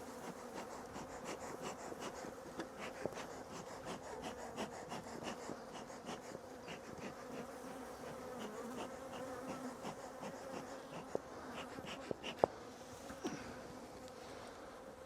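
Honey bees buzz steadily around an open hive during an April inspection, a dense continuous drone close by with a few faint clicks and knocks of frame handling, and no one talking.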